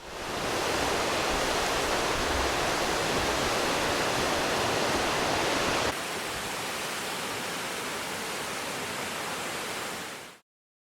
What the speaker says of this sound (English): At the end of the Kaldidalur trek, you can find the beautiful Hrönfosser waterfalls.